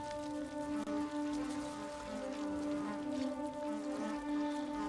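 Rain falls in a video game as a soft, steady patter, faint and low in level, mixed with sustained background tones.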